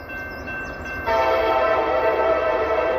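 A train hauled by EMD diesel locomotives rumbles past as a horn sounds, the tone jumping louder partway through and sustaining a strong, near, steady blare over the rolling noise.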